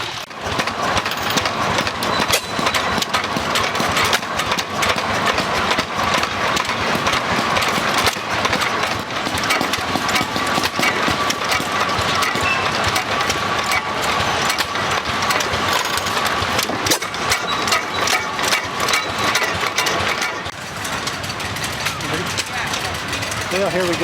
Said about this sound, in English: Big red engine there is a pretty red engine that's really old.